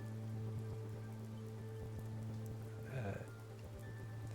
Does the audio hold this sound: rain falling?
yes